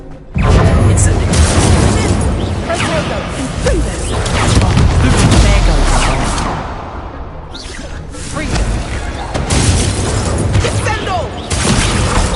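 Incendio fire spell cast in Hogwarts Legacy during a duel: loud, dense fiery bursts and whooshing blasts in rapid succession, with booming impacts and a brief dip midway before the roar resumes.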